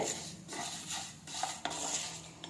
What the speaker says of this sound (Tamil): கடலப்பருப்பும் உளுந்த பருப்பும் நல்லா வறுபட்டுருச்சு